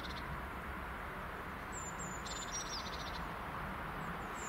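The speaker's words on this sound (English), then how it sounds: "some great tits in the trees behind" Great tits call from trees behind, a few short, thin chirps heard faintly and at a distance over a steady, hushed outdoor background.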